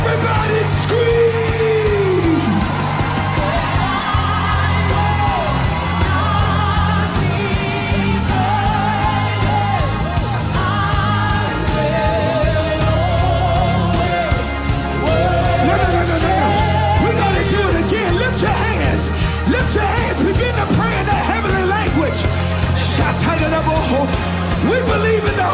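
Church congregation screams and shouts praise during a worship service, a loud sustained crowd roar of yells and whoops with raised voices carrying on throughout.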